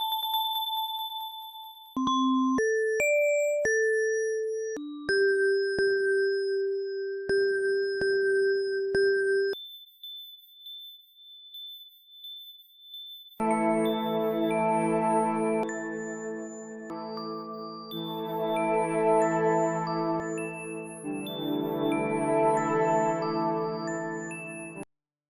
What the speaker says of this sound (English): I'm about to move on to these little like bells that are playing throughout the intro.